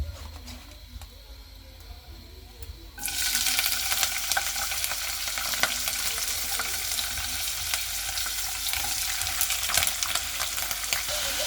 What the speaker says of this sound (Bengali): এখন আমি এই যে চিংড়ি মাছগুলো তেলে দিয়ে দিব।